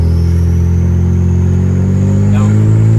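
A BMW 335i with an N54 engine and upgraded 19T turbos accelerating, a loud close steady engine drone with strong low harmonics that hold throughout, while people talk over it.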